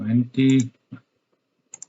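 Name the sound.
computer keyboard typing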